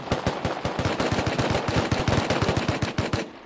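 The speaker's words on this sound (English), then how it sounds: "Gonna have to shoot." Rapid automatic gunfire in the survival video game Rust, a loud, close, evenly spaced stream of about two dozen shots with no pause and no speech.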